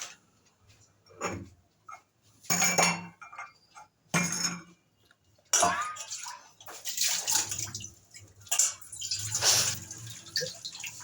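Potatoes being washed in a basin, splashing water and clinking sloshes in irregular bursts, close and moderately loud, with quiet gaps between handfuls.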